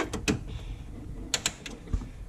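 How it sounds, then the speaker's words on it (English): Zeus quarter-turn fasteners latch onto a fuel pump trap door on an 82-92 third-generation Camaro, giving a few short, sharp metallic clicks and a light creak, close and isolated. "our Zeus fasteners latch on, click."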